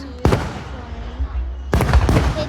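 Two loud fireworks bursts, each a sharp broadband crack with a booming tail, about one and a half seconds apart against a low outdoor rumble at a town fireworks display.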